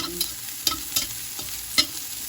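Onion, ginger and garlic fry in a pan with a steady light sizzle, broken by a few scraping stirs of a utensil, heard close with no one talking.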